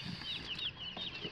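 Thirty newly hatched meat chicks, bought as day-olds at a feed store, cheep in a box with a steady overlapping chorus of high peeps and occasional soft rustles and flutters, close by with no talk.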